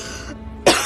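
A character in a film coughs after smoking: a single short, sharp cough bursts out near the end after a moment of quiet.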